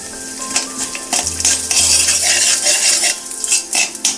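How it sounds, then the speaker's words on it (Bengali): Panch phoron and two dried chillies fry in hot mustard oil. A bright, hissing sizzle rises as a metal spoon clinks and scrapes against the pan in quick knocks. The sound is close and fairly loud, with no talking. "তেলটা ভালোভাবে গরম হয়ে গেলে দিয়ে দিচ্ছি পাঁচ ফোড়ন আর দিয়ে দিলাম দুটো শুকনো লঙ্কা"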